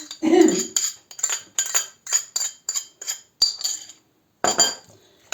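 A utensil mixes a beet and herring salad in a bowl, producing a quick, rhythmic run of scraping clinks against the dish, close and fairly loud, with a brief pause before a final few strokes.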